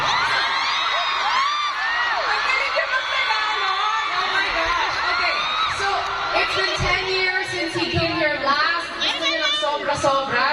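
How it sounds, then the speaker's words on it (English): Fans at a Junho fan meeting in Manila cheer and scream continuously, a dense, loud wall of shrill whoops and shouts from a large crowd. "sobra-sobra yung cheers nyo"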